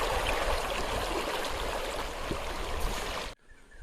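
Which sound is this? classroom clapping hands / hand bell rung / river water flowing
river water flowing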